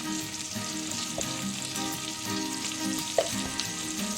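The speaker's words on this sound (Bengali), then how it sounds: "এবার ভালো করে এটাকে ভেজে নেবো যতক্ষণ না পেঁয়াজ, ক্যাপসিকাম, রসুন এইগুলো কাঁচা গন্ধ চলে যাচ্ছে" Onion, capsicum and garlic fry in a pan with a steady, close sizzle that runs throughout, broken by a few light clinks and stirring knocks, with no voices.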